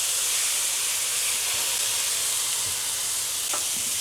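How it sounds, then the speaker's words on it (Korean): Shrimp and onion stir-fry in a hot pan with a steady, loud, hissing sizzle that holds evenly throughout, with faint knocks underneath. "자, 충분히 볶아줍니다."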